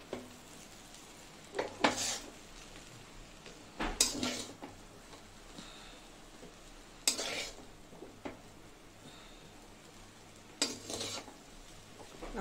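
Egg chicken chow mein being tossed and mixed in a pan, with four spaced bursts of scraping and clattering against the metal over a low background hum, with no voices.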